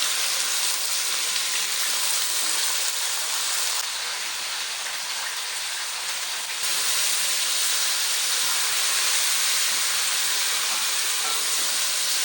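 Mutton being added to a hot karahi gives a loud, steady sizzling hiss with no break through the whole stretch. A brief lighter patch in the middle falls back into the full, dense frying noise.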